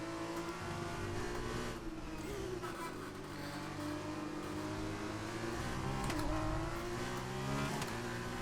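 A race car in the F1 2021 video game spinning its wheels out of the final corner of the French GP, engine droning and revving steadily and loudly throughout, with a faint tire squeal over the continuous roar.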